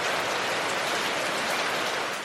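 Steady rain pouring down in Sidemen, Bali, a dense, even hiss of falling water heard close and unbroken, with no voices.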